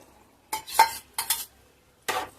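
A spoon stirring chicken curry in a pot after yogurt is added, three separate scraping, clattering strokes against the metal pan, close and clear with quiet gaps between them.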